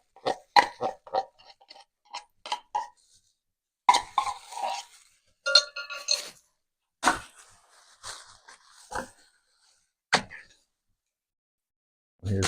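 A spoon scrapes and clinks against the inside of a can of condensed milk in a series of sharp metallic taps and scrapes, close and fairly quiet, with pauses between strokes and no talk.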